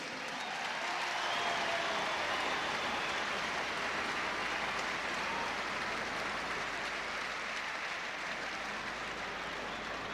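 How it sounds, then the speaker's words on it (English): A large stadium crowd at the 2011 All-Ireland hurling final between Kilkenny and Tipperary applauds both teams in a dense, sustained roar of clapping that swells slightly and holds steady throughout. "Give your applause to two outstanding teams."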